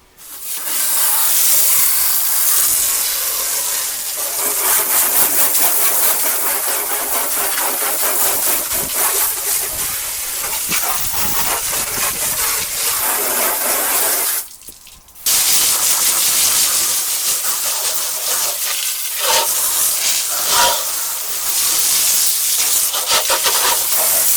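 High-pressure hose sprays water loudly and continuously while cleaning out a barn-find 1977 Corvette, with a brief cutoff midway before the spray resumes, and no one speaks.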